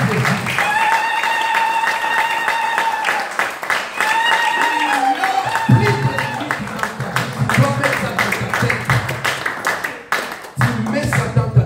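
A church congregation claps and applauds for Jesus in sustained rhythmic clapping, with voices and music carrying over the applause throughout.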